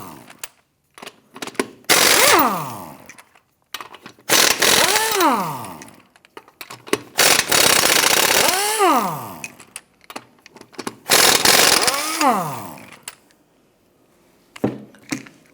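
An impact wrench loosening and spinning off the front wheel lug nuts on a 2008-2013 Nissan Rogue, four loud bursts each winding down in pitch, separated by short pauses and small clanks, close up.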